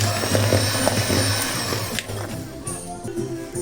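Breadcrumbs, maida and baking powder are mixed into a Christmas plum pudding batter, giving a steady, close scraping and churning that runs through the whole moment, with a continuous low hum underneath.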